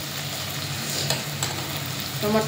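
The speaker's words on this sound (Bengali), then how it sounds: "এখানে আলু আর গাজর একসাথে আমি তেলের মধ্যে ফ্রাই করে নিচ্ছি" Potatoes and carrots frying together in hot oil give a steady, dense sizzle and crackle throughout, with a few soft stirring knocks, close and continuous.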